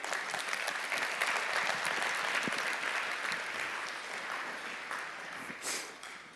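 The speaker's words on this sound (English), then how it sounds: "So if I can get a big round of applause for Jeff." An audience at a conference event gives a big round of applause, a dense, steady clapping that holds for several seconds and then tapers off slightly at the end.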